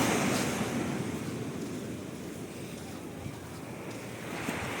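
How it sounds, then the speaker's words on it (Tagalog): Ocean waves wash onto a beach at Casiguran, Aurora, as a continuous surf roar with gusts of wind buffeting the microphone, a little louder at the start and near the end. "Alon."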